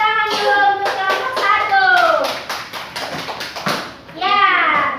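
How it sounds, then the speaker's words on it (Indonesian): Schoolchildren in a classroom clap for a group, a fast, dense patter of hand claps spread across the room, mixed with children's voices calling out. "Kita berikan tepuk tangan dulu untuk kelompok"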